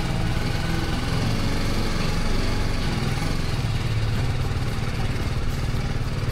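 A motorbike engine drones steadily and close as a ride begins on the way to an underground Ganpati temple near Nalasopara, a buzzing, slightly clattering note held without a break.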